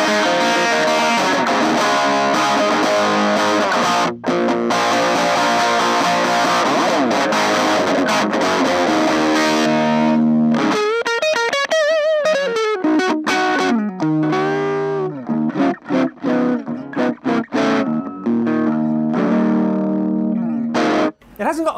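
A tiny portable mini guitar amp with a mid-focused, Marshall-style distorted tone, playing loud sustained chords and riffs with effects shimmer, then choppier bursts and gaps toward the end.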